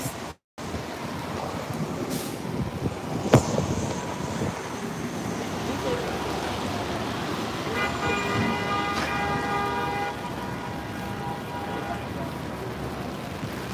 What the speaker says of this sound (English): ASMR, traffic noise.